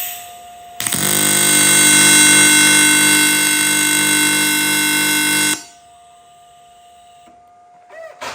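A tack weld goes onto a Panhead motorcycle exhaust: a loud, steady buzzing electric hum starts abruptly, holds for about five seconds and cuts off, followed by faint clicks and a quieter background tone.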